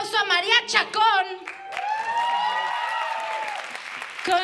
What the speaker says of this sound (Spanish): Quiero que reciban con un fuerte aplauso a María Chacón.